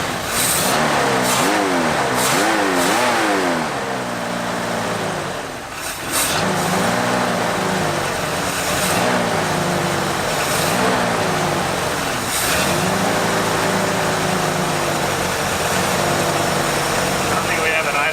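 An abandoned Ford Bronco's carbureted engine that won't idle revs repeatedly, surging up and down loudly and close by, with people talking over the engine.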